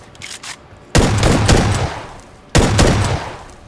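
Shotgun fire in a first-person shooter video game: two loud, sharp blasts a second and a half apart, each trailing off in a long echoing rumble, with faint clicks before the first.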